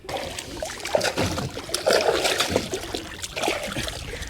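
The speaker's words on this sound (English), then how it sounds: "Get that nice shark infested water, rinse off." Scrubbed hands are rinsed in seawater from a fishing boat near islands, giving close, uneven splashing and trickling that continues throughout with no talking.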